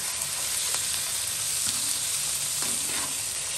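Hilsa fish patori wrapped in a leaf fries in a pan with a loud, dense, continuous sizzle and a few soft clicks, close up and without any voices.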